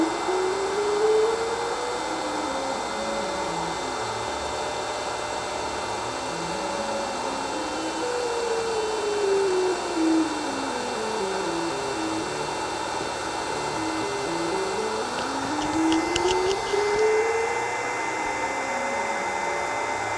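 LONGER Ray 5 20-watt laser engraver cutting a 3-inch circle, a loud steady whirring fan and air-assist rush with a stepper-motor whine sweeping up and down in repeating arcs as the head traces its path.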